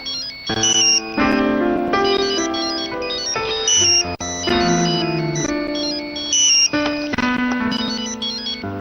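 A loud electronic phone ringtone plays a bright, repeating melodic pattern of sustained tones for an incoming call, continuous and close, with no talking.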